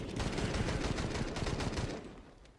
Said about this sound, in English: Guns them all down. With the FAMAS.